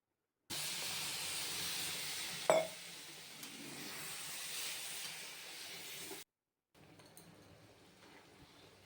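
Water poured into a hot pan with grated ginger while cooking a spicy semolina upma, giving a sustained close steamy hiss with a brief sharp clatter early on, then a short gap and a fainter hiss.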